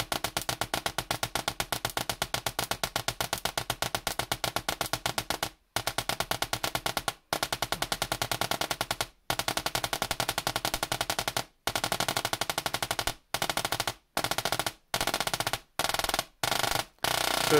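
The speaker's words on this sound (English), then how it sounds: "You get the longest arcs when you do these rapid pulses." A mini solid state Tesla coil fires rapid pulsed sparks, a loud dense crackling rattle like machine-gun fire running continuously, broken by several brief silent gaps toward the end.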